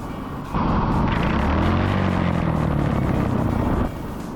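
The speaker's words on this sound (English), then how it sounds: "my engine isn't properly mounted on, and you will hear this now." A loosely mounted go-kart engine starts up and runs at a steady, loud, rattling drone for a few seconds, then cuts back to a lower background rumble.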